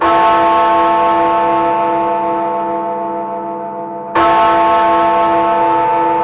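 Big Ben's clock bell gives a deep, loud strike that rings out and hums on with a long sustained tone, then a second heavy strike sounds, close and resonant.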